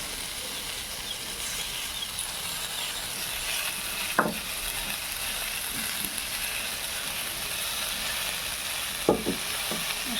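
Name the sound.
ground spice paste frying in a pan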